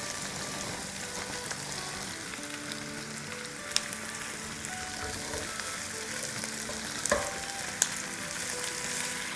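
Chopped red and green bell pepper pieces sizzle steadily in a hot pan for chicken jalfrezi, a constant loud frying hiss with a few sharp spoon clicks and stirring scrapes, no voices.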